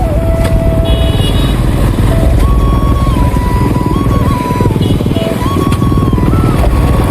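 Several motorcycles ride together in a group, a steady loud engine drone with a shifting whine as the bikes cruise along, with no talking.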